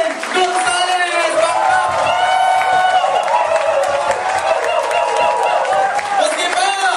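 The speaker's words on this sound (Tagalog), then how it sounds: "Bilyong-bilyong palakpak para kay power speaker" A crowd at a training seminar applauds and cheers for a featured speaker, with dense continuous clapping mixed with whoops and shouts, loud and close.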